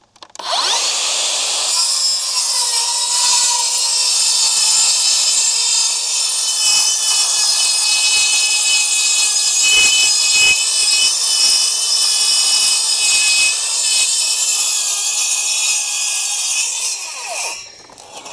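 A Makita circular saw fitted with a Milwaukee blade rips through wood in one loud, continuous, high whining cut of about seventeen seconds, then winds down and stops.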